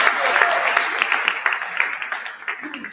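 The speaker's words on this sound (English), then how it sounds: "A better round of applause." Applause from a conference audience at a women's career advancement event, a dense patter of many hands fading gradually over the clip, with a voice briefly heard over it.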